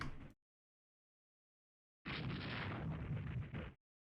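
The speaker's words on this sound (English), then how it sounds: "a rake of torpedoes now against the poor dying thing" Torpedo explosions strike a ship in the naval strategy game Rule the Waves 3, a short blast cut off abruptly, then a second heavy, rumbling detonation lasting over a second before stopping dead.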